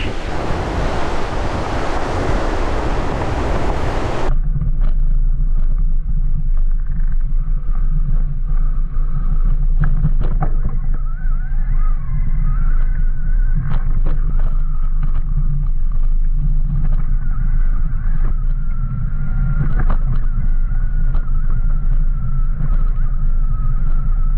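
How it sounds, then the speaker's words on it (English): Strong mountain wind in the Scottish highlands roars loudly beside a parked motorbike, opening with a harsh gust of wind-buffeting on the microphone and settling into a steady, low rumbling blow that continues without a break. "Back at the bike, the wind is still not abating."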